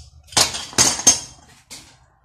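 A hammer taps sheet metal of a rocket stove: a few sharp metallic taps, three in quick succession and then a fainter one, bright and close with brief ringing.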